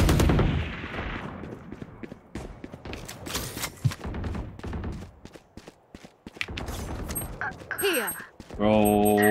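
Video game gunfire crackles in rapid bursts and single shots amid explosions and in-game effects. A player speaks over the action, with beeping interface sounds near the end.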